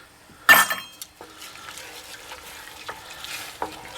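Salt, pepper and smoked paprika are stirred in a pan with a spoon, giving a sharp clink at first, then soft scraping and a quiet sizzle, with a few lighter taps.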